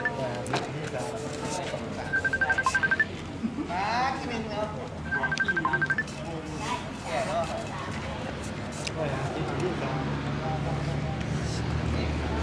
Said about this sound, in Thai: กำลังไลฟ์สดอยู่นะครับ ไม่สามารถรับโทรศัพท์ได้นะครับ